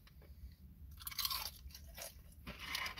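Crisp, crunchy chewing up close on maple bacon, a few bursts of brittle crunching with short pauses between bites.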